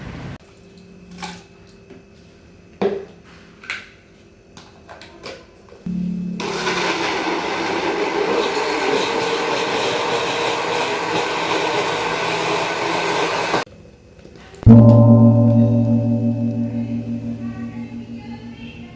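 An electric blender grinds aloe vera with coconut water for an organic pesticide, running loud and steady for about eight seconds between quieter clicks and handling sounds, then a second shorter whir that fades out.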